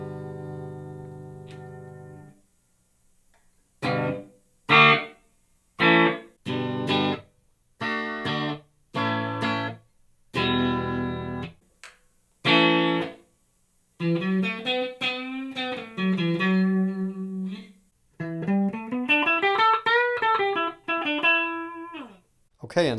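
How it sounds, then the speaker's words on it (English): Dry electric guitar plays short plucked chords and sustained bending notes, clean and close with no echo or room tail, separated by brief silences. "And the guitar with no reverb."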